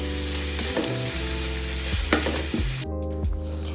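Carrots sautéed and stirred in a pan for chicken fried rice, a steady broadband sizzle running throughout with a few scraping stirs, under continuous tonal background music and no talking.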